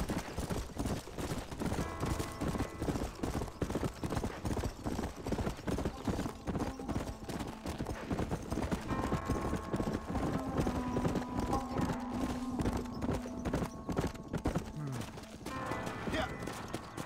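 Rapid, rhythmic hoofbeats of a galloping horse in Red Dead Redemption pound on continuously, fairly close, with other game sounds mixed in.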